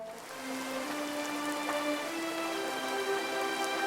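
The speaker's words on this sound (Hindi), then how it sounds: "तेज बारिश के बीच" Heavy rain pours down in a dense, steady patter, with soft tonal music layered over it and no speech.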